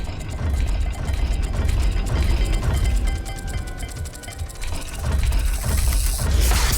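A puzzle dial mechanism turns in the video game Hogwarts Legacy, giving continuous grinding, ratcheting clicks that run steadily throughout with a brief lull before picking up again.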